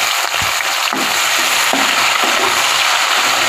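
Spices frying in hot oil for vegetable pulao, a steady loud sizzle throughout with a few faint stirring knocks, close up and with no voices.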